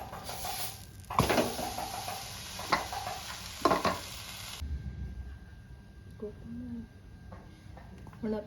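A Punjabi-style potato-stuffed paratha is set on a hot tawa, giving a loud, bright sizzle with a few clanks and scrapes. The hiss cuts off abruptly partway through, leaving quieter kitchen sounds.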